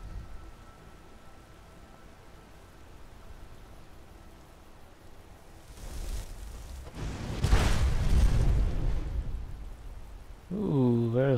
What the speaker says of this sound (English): Big fire explosion, just like it says.